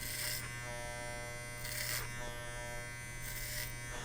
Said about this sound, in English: Again, clipper over comb technique you got to get good at just by doing it over